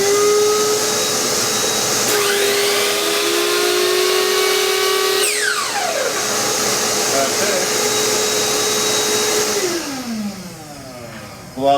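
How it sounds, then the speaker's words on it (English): A workshop dust-extraction vacuum linked to a saw runs with a loud, steady whine and its pitch shifts partway through, then it winds down and stops near the end. "it will activate the vacuum cleaner and enable the saw to run."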